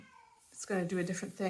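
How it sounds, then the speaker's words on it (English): A cat meows at a back door in a series of drawn-out, rising cries that come back to back, fairly close and loud, while a person talks over them. "Sorry about the cat crying in the background."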